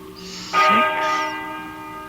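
A single deep bell strike in an old-time radio drama rings out with a rich, lingering tone that slowly fades, heard alone in a quiet space.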